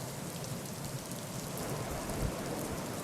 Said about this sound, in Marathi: राज्यात मुसळधार पाऊस सुरू आहे